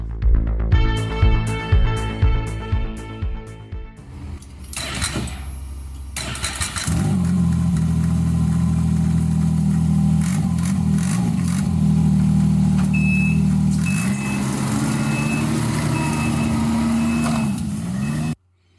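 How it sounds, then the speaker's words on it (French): A gasoline-powered snowmobile engine sputters in rapid pulses as it starts, then settles into a loud, steady running drone close by. The drone rises slightly in pitch before cutting off abruptly. "Comme vous l'avez entendu, il s'agit ici d'une motoneige à essence."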